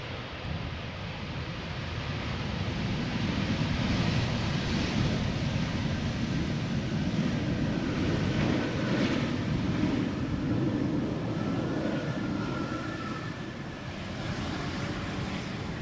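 A KLM Embraer 190 airliner at Schiphol airport after arriving from Geneva, heard as a steady, broad engine roar that holds level for the whole stretch, distant and continuous with no talk.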